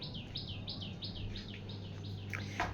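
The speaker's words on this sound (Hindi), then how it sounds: "और यहाँ देखो चिड़िया की चहचहाट।" Small birds chirp in a rapid, repeating series of bright tweets, faint and somewhat distant, heard indoors from a home room over a steady low hum.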